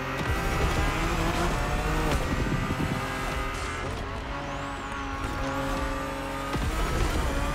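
An Alfa Romeo Giulia GTAm with an eight-speed gearbox drives in The Crew Motorfest, its engine droning steadily and loudly, rising and dipping through quick gear changes, with faint tire squeal.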